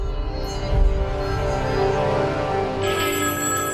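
A telephone rings steadily in a tense indoor scene, its tonal electronic ringtone repeating loud and close throughout with a low rumble of background noise beneath.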